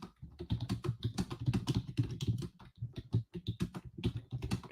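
Rapid typing on a computer keyboard, close and clear, with dense clicking keystrokes broken by a few brief pauses and no speech.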